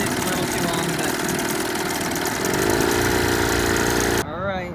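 A 1980 Chrysler Sea King 15 horsepower outboard motor idles with a steady buzzing chug, close and loud, dropping away near the end as a voice comes in.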